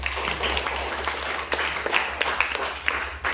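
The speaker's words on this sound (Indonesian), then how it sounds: "Oke, aplaus untuk kita semua" A classroom of students clapping together, a brief burst of dense, close applause with sharper individual claps toward the end.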